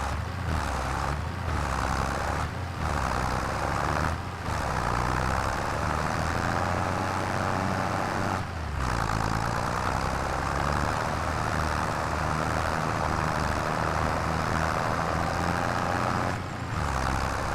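Tractor engine running in the Farming Simulator 25 video game on a farm with flooded rice fields, a steady droning rumble that stays loud and even for the whole stretch, broken by a few brief dips, with no talk.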